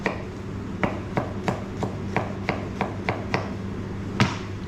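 A kitchen knife rough-chops a garlic clove on a cutting board, giving about a dozen crisp, evenly spaced knocks close up, with no talking.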